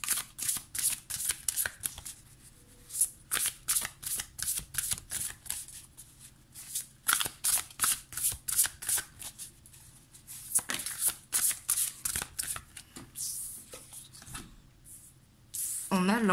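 A Beautiful Creature tarot deck is shuffled by hand in quick, close bursts of crisp riffling and slapping cards, with short pauses between runs and occasional quiet talk.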